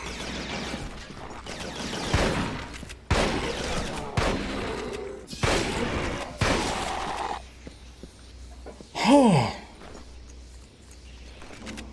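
Double-barrel shotgun blasts from the video game Resistance: Fall of Man, a series of loud, sharp gunfire bursts in the first seven seconds, followed by a quieter stretch with a brief sweeping effect.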